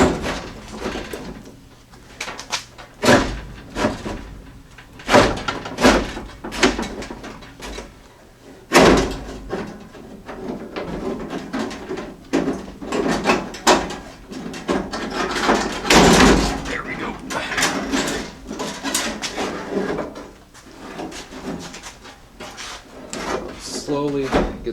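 Clunks, scrapes and knocks come from working window parts out of a Jeep J10 door, irregular handling noises under steady talk from a person.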